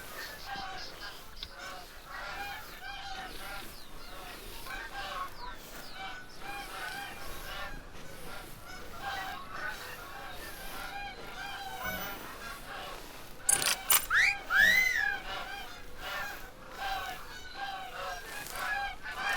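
Geese honk in a hunting video game set outdoors, a run of calls over steady ambient game sound that peaks in a louder burst near the end, with faint talk in the background.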